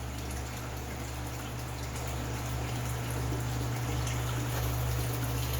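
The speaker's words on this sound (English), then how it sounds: "we're just waiting for the water level to drop down enough to suck air in and break that siphon over there" Water gurgles and rushes steadily as an aquaponic grow bed drains through its bell siphon in an indoor cannabis flower room, a continuous close wash with a low hum beneath it and no talking.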